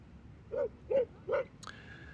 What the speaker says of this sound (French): Sympa ce chien qui beugle.